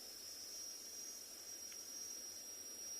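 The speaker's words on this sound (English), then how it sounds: "Yeah, the cicadas singing in the distance." Distant cicadas sing in a thin, continuous high-pitched drone over a quiet evening safari landscape, faint but steady for the whole stretch.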